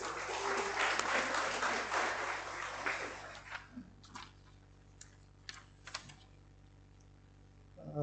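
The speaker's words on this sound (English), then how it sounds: "Please give a big round of applause for Sir to come up and share his precious words." A crowd applauds steadily for a few seconds, then the clapping thins out into scattered claps and quiet room noise.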